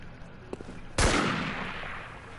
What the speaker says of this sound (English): It turns it into a pistol.